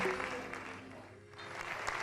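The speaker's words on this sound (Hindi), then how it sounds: "जोरदार तालियां." Dense applause from an audience at an award presentation during a tribute concert, a continuous broadband wash of many hands that dips briefly in the middle and then picks back up.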